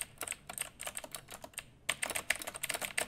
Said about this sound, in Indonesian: Memang annoying lah bunyi keyboard blue switch ni.